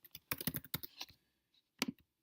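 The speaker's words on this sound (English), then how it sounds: "And we'll type in some options here." Keys clatter on a computer keyboard in short bursts of quick typing, close and fairly quiet, with a brief pause before a final few keystrokes.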